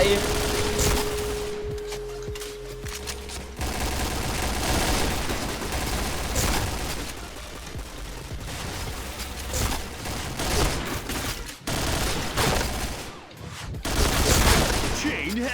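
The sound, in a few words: gunfire from AUG Blue rifle in video game Point Blank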